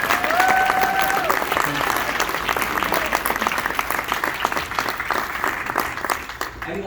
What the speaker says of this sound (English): one more round of applause for Mrs. Gino.